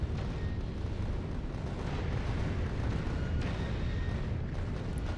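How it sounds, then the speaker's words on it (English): Rockets launching and bursting in Factorio Space Age, a steady dense rumble of overlapping low booms with no distinct gaps, moderately quiet and continuous throughout. "Now we're shooting a lot of rockets."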